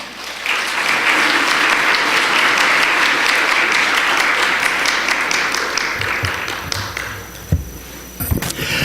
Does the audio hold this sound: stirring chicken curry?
no